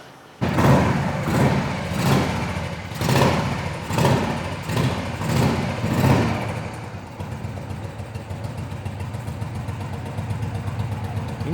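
An older vintage motorcycle engine idles nearby with a steady, loping pulse and a few rhythmic surges early on, then settles into a smoother, quieter idle.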